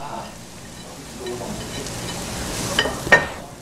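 Paprika and broccoli stir-frying in a pan, with a steady sizzle and a few scraping stirs near the end, while people talk over it.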